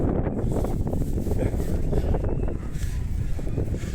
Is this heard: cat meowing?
no